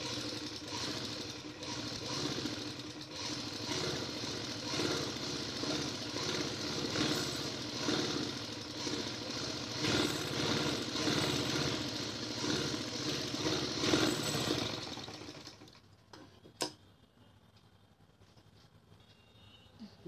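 A sewing machine stitches a zigzag seam on a salwar, giving a steady, rapid mechanical rattle close by for about fifteen seconds. It stops abruptly, followed by a single sharp click and near quiet.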